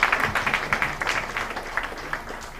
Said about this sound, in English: let us give a big round of applause to our Minister